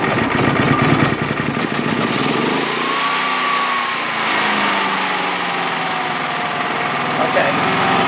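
A DuroMax XP9000iH portable generator runs on a remote fuel tank, its small engine droning loudly and steadily up close, with the pitch shifting slightly as the load settles and a person talking over it.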